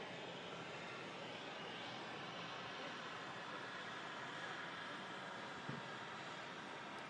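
A Ryanair airliner arriving from Warsaw, heard as a steady, distant engine roar that holds level throughout with no voices.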